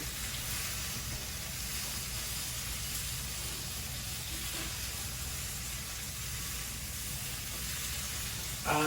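Sausage frying and sticking in a pan while being stirred with a spatula, a steady broadband hiss and sizzle that runs loud and unbroken throughout with faint scraping underneath.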